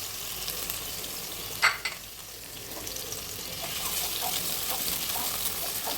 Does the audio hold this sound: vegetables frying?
yes